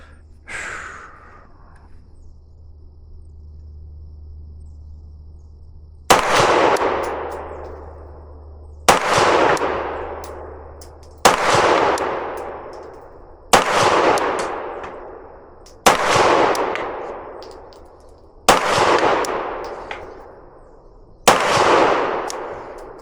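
Seven sharp, loud Glock pistol shots fitted with KNS Precision flip-up sights ring out at an NRA paper target, evenly spaced a couple of seconds apart, each cracking hard and then decaying into echo.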